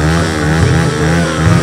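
A motorcycle engine revs loudly and steadily up close, a continuous throaty roar with slight surges.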